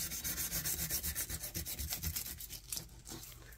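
A knife cuts into a largemouth bass with quick, rhythmic rasping strokes, close and crisp at first, then softer and slower toward the end, with no speech.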